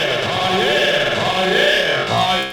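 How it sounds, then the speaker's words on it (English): Simple delay effect with high feedback on a synthesized sound, dense repeating echoes smearing into a continuous swirling, warbling texture that stays loud throughout, no talking. "I'm going to introduce a simple delay and I'm going to link them together."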